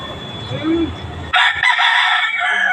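A fighting rooster clucks softly, then lets out a loud, close crow that carries through the rest of the moment, with faint background noise beneath.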